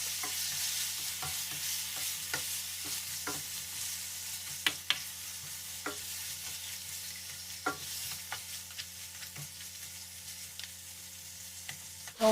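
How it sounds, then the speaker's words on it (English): Washed beef for a curry with plantain gets stirred in a pan over a quiet, constant sizzle, with a utensil scraping and knocking sharply against the pan at irregular intervals. "Give that a good mix around."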